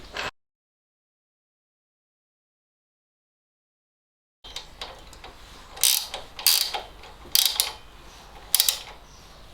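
A spanner tightening the bolts on a newly installed front suspension: after a silent stretch come close, irregular metallic creaks and ratcheting clicks in short, louder bursts.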